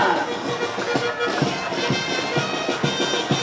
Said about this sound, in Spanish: Para ella también pone las palmas.